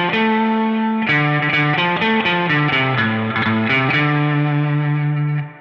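Warm spaghetti western electric guitar tone, a sustained note followed by a run of picked single notes with even attack, loud and alone with no talk.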